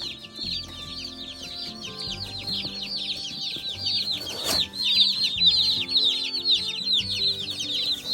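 Dense high peeping of many Cornish Cross meat chicks mixed with lower clucking from Buff Orpington chickens, continuous and busy, with a brief rustle partway through.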